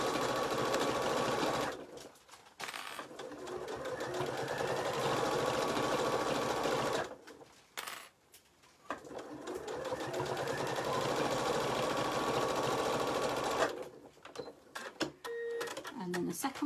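A sewing machine runs in long, steady bursts while stitching a quarter-inch seam on a quilted hot water bottle cover, stopping briefly between runs, with a faint voice now and then in the pauses.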